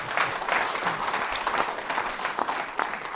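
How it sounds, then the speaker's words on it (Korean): Audience applause greets a special guest, Buddhist monk Myeongjin, at a lecture on Korean unification: a dense, steady patter of many hands clapping at even loudness for the whole stretch, with no voices over it. "박수 한번 보내주시겠어요?"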